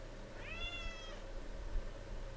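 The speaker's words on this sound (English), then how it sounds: "Don't mind the cat." A house cat gives one clear, rising meow of about a second, close and fairly quiet, over a low steady hum in an indoor room.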